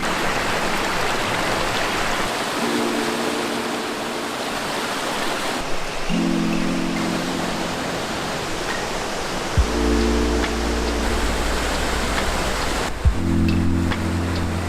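The Shirogane waterfall at Ginzan Onsen, Japan, gives a steady, dense roar of falling water throughout, loud and close, with faint low hums coming and going beneath it.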